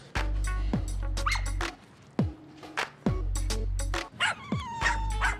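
A dog barks and yips in a quick series of sharp, close bursts with squeaky whimpers between them, with little else in the background.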